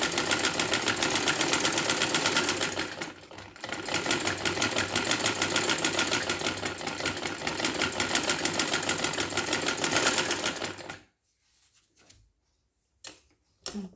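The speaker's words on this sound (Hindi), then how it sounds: "ये हमें पूरी सिलाई करनी है, तो मैं कर देती हूँ" A sewing machine runs in a long steady whirring burst while stitching a fabric neckline, with a short pause near the start, then stops, followed by a few faint handling clicks.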